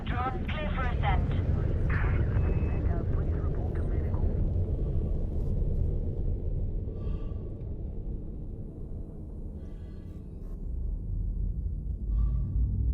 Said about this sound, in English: Landing gear retracted. Ship restraints withdrawn. Clear for ascent.